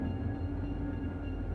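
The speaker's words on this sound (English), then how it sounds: "A brand new diesel is sorting cars in the Western Pacific Yard." A new diesel locomotive sorts rail cars in the Western Pacific yard in 1941, its steady engine rumble and low drone holding evenly through a short stretch without talk.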